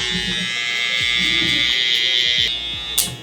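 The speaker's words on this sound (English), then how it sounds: "Trimmer. Lever open." An electric hair trimmer buzzes steadily up close, a bright constant hum. Faint clicks of its lever being adjusted come through, and a short sharp click lands near the end.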